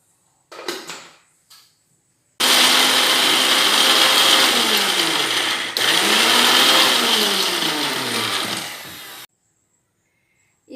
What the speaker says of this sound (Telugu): దీన్ని మిక్సీకి వేసాను నేనైతే.